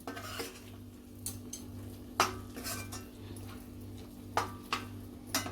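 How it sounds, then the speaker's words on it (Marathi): A ground coconut masala paste sautéed in a pan for fish curry: a spoon scrapes and clanks against the metal in irregular knocks over a low steady hum, with only a faint sizzle. "थोडं परतून घेते हे वाटण"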